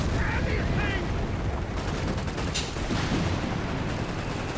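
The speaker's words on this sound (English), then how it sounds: "Panthers, they're taking fire." Gunfire during a Company of Heroes 3 battle between Wehrmacht and US forces, a dense continuous roar of shots and explosions with rattling bursts, loud and unbroken from start to end, with a voice talking faintly over the noise.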